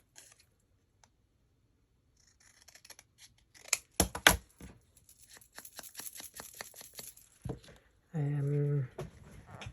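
Scissors cut through embossed paper in a series of crisp, close snips and rustles, clustered mid-way, with a person talking briefly near the end.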